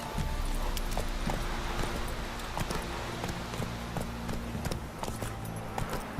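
Roach the horse galloping in The Witcher 3, a steady rapid run of hooves clip-clopping close up with rhythmic thuds throughout.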